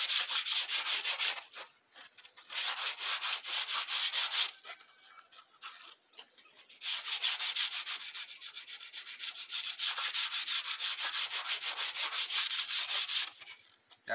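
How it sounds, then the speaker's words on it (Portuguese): A clay piece sanded by hand, long rhythmic scratchy rubbing strokes in bursts with short pauses between them, close and clear with no talk. "É bem bonzinho de lixar porque é barro, né?"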